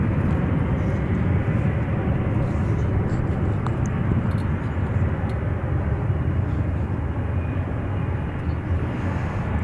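A jet airliner takes off from runway 18 left at DFW airport, a loud steady broadband engine roar filling the scene without letup, with no voices over it.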